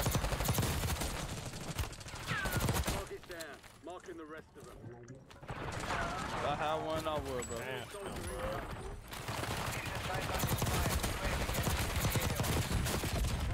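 Rapid gunfire bursts from a Warzone battle royale match with a C9 loadout, dense and continuous across the clip, with players talking over the shooting.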